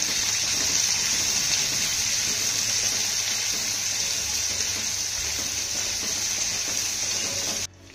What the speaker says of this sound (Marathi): आता हा कांदा आपल्याला मऊसूर होईपर्यंत परतून घ्यायचा आहे